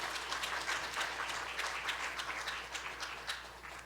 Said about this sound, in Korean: 우리 다시 한번 큰 박수 부탁드립니다